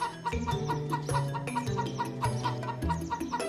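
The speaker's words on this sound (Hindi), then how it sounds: "गांव में आकर देखा तो उसे वहां पर थोड़े मुर्गी दिखे।" Chickens cluck in a village, a flock of hens giving repeated short clucks in an irregular rhythm. The calls are close and clear, with no talking over them.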